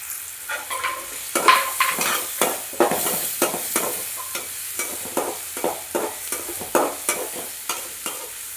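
Onions and curry leaves sizzle steadily in a hot pan while a spoon scrapes and stirs in a regular rhythm of close, sharp strokes, with no talking.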